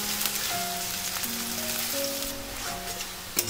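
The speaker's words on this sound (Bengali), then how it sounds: "পেঁয়াজটাকে হাই ফ্লেমে রেখে 2 মিনিট মতো ভেজে নেব একদম ব্রাউন করে।" Chopped onions frying on high flame, a soft, steady crackle and sizzle throughout, with a short sharp clatter near the end and no talk.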